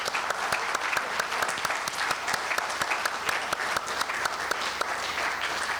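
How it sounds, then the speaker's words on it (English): An audience applauds alumni panelists at a career panel event, steady and fairly loud clapping from many hands with distinct sharp claps popping through the crowd sound. "a round of applause for our panelists"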